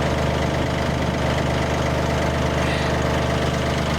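A newly set-up flail mower's engine idles close by, a steady, loud, unbroken low rumble with a slight knocking vibration and no talk over it.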